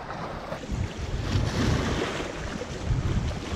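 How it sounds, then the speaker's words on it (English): Rough, choppy lake water on Canton Lake, Oklahoma, waves slapping against rocky bank in a steady broadband wash, with gusting wind buffeting the microphone throughout and no talk. "You would think how rough this water is"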